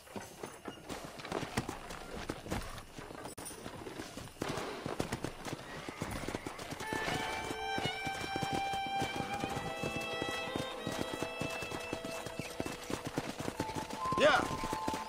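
Horses neigh repeatedly over a steady clip-clop of galloping hooves in Red Dead Redemption on Nintendo Switch OLED, with bursts of whinnying rising above a busy outdoor game soundscape.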